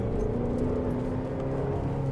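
A Ferrari California engine while driving, a steady low drone at moderate revs with smooth road rumble, heard from inside the car and without talk.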